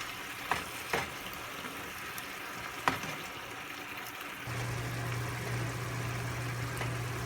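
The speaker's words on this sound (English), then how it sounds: "we are going to saute this for about probably 3 to 4 minutes. just until it's cooked." Chili garlic paste sautés in a pan over medium-high heat, a soft continuous sizzle with a few sharp utensil taps early on and a low steady hum entering partway through.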